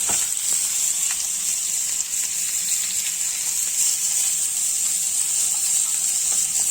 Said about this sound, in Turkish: Tamamen kendi yağıyla kızardı.